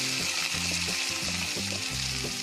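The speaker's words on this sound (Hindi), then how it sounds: "इसको फ्यू सेकंड्स के लिए सौटे कर लेंगे। अब इसमें हम अनियन डालेंगे" Onions sautéing in a hot pan with cardamom, cinnamon stick, cloves and black peppercorns give a loud, steady sizzle that fills the whole moment, with faint stirring scrapes and no voices.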